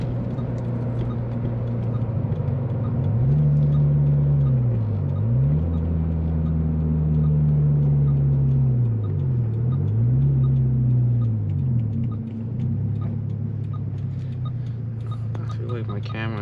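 A Subaru BRZ/FRS/GT86 fitted with a custom exhaust drones loudly and steadily from inside the cabin, its note rising and falling through several revs across the drive.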